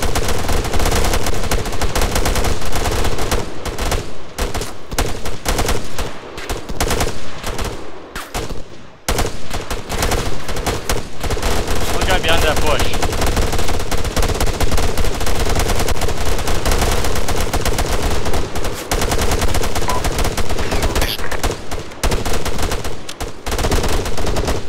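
Sustained machine gun fire in Arma 3, dense loud bursts of rapid shots rattling almost without pause, with a brief lull partway through before the firing resumes just as heavily.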